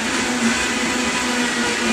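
A blender runs at high speed, blending a green smoothie made with chlorella; a loud, steady whirring roar with a constant motor hum fills the whole stretch, with no voices.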